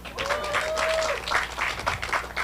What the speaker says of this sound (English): So clap for them again.